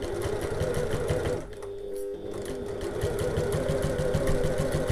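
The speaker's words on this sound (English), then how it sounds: "And then decrease back down to my regular stitch length and do a bit of back stitching." A sewing machine back stitching on a tote bag, running steadily with a fast rhythmic whirr and clatter, briefly slowing and pausing around the middle as direction changes, then resuming close and loud.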